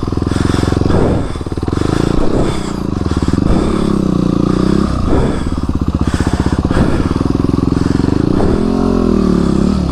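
A Yamaha WR250 dirt bike engine revs and bogs repeatedly up close, pitch rising and falling in bursts as it labors over rough off-road ground, loud and continuous.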